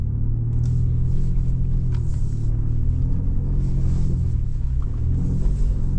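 A 2025 Ford Ranger Raptor climbing an off-road slope in high range with the rear diff locked, its engine a loud, steady low rumble heard from inside the cab, with faint creaks and knocks over it.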